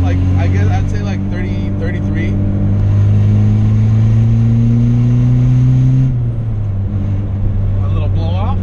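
A turbocharged Honda Civic Si EP3 revs loudly nearby, its pitch climbing steadily before a sudden drop near the end where the turbo blow-off releases, with a brief burst of engine noise afterward.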